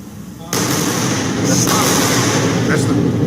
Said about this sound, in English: That's the Double sonic booms.